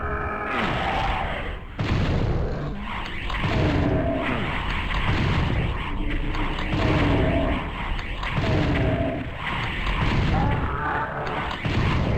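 Repeated heavy shotgun blasts from the DOOM 64 game, loud booming shots roughly every second or two over a dense, continuous backdrop of game noise and music.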